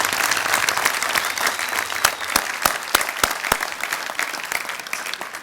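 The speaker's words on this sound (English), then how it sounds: "Let's give all of our winners a round of applause this evening." An audience at an alumni awards ceremony claps for the winners, a full, dense round of applause from a crowd indoors with a few sharp louder claps standing out, sustained throughout.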